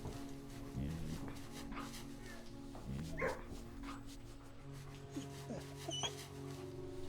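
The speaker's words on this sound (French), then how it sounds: "Baby, c'est un beau toutou ça." A dog whimpers and yips softly in the Blue Prince video game, with thin, faint cries over a steady background hum while a voice talks.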